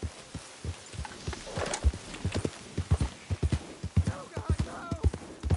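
Steady, close clip-clop of a horse's hooves in a PS4 game, an even trotting rhythm of sharp thuds throughout, with faint background game ambience.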